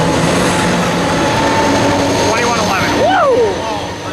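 An Amtrak passenger train roars past at a Fullerton rail crossing, with loud continuous rumble and a sweeping horn-like tone, while someone talks excitedly over the passing noise.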